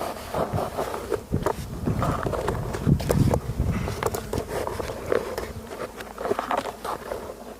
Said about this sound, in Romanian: văd că vine cu polen de rapiță. Zborul este frumos